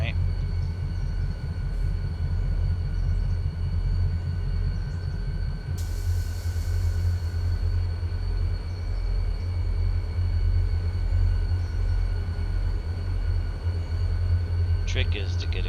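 A train of railroad cars being dragged downhill gives a steady low rumble that stays constant and close, with a brief hiss partway through and faint squeals near the end.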